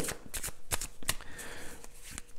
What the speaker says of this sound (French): on va prendre une autre carte